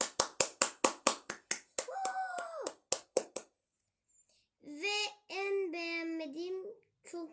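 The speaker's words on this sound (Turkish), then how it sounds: "Şak şak şak alkışlayın bakalım" Children clap in a classroom, a run of sharp, evenly spaced handclaps at close range, broken up by children's speaking and wailing voices.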